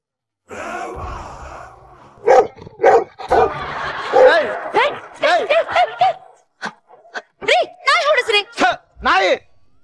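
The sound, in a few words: person imitating a dog barking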